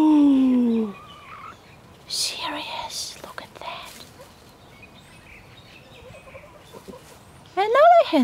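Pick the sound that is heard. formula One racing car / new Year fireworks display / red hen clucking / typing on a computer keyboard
red hen clucking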